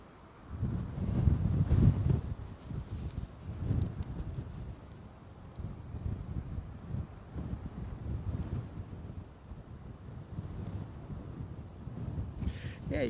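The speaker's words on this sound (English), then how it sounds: "15 knots of wind at the moment, with a crosswind component of 9 knots" Gusty crosswind of about 15 knots buffets the microphone at Newcastle Airport during early snow, a continuous low rumbling roar that surges and eases in waves, loudest near the start, with no talk.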